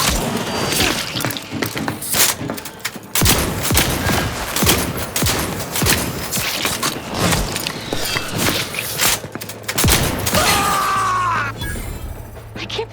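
Dense, continuous weapon gunfire in the video game The Outer Worlds 2, with rapid shots, impacts and thuds layered over a low hum, loud and sustained for the whole stretch.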